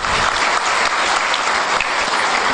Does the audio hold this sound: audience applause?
yes